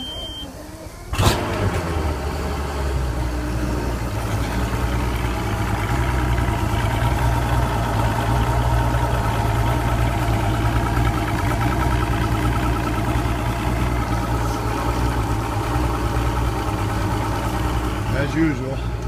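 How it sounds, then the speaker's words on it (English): Outboard boat motor idling steadily after an ice-cold start, a sharp start-up burst followed by a continuous low engine drone that stays loud and even throughout. "The boat is 80 degrees, which means that outboard has now been started."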